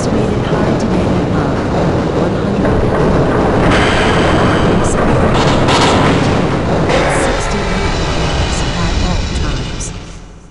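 Tram ride aboard the transit system in the video game Half-Life: The Infected, a steady loud rumble of rolling wheels and rattling carriage running throughout, with occasional clanks and heavier thumps, fading out at the end.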